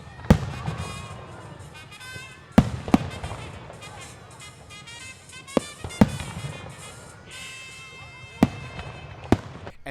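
Fireworks at an outdoor Fourth of July celebration on a city field in Torrance go off in sharp, loud bangs a few seconds apart over a steady crowd murmur and talk.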